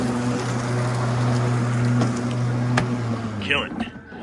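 Ryobi 80V electric riding lawn tractor running steadily at fast speed outdoors behind a barn, a constant close hum with faint rustling, easing off near the end.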